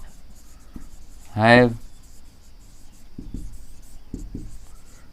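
Chalk or marker writing on a classroom board, one short firm scrawl followed by a few faint taps, beneath a teacher's voice speaking in Hindi and English.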